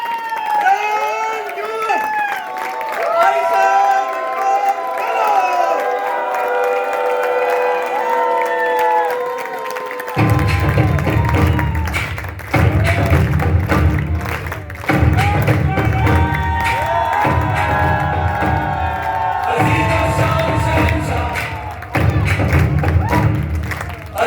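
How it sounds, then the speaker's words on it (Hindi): An audience at an open meeting celebration in Jaipur claps and cheers, with loud, dense, rhythmic clapping in repeated bursts through the second half, following a stretch of voices over music. "तो आपकी तालियां ऐसी होनी चाहिए।"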